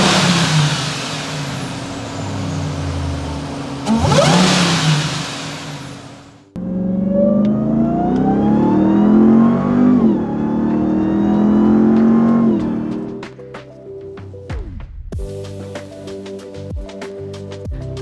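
A RAM TRX pickup fitted with an aFe cold air intake revs its engine in several deep, rising and falling bursts, loud and close, with a few sharp gaps between pulls.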